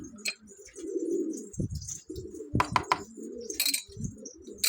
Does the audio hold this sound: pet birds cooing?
yes